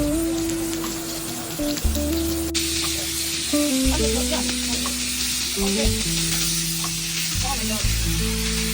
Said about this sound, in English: I use butter to grease my cast iron pan. Cooking my husband's steak first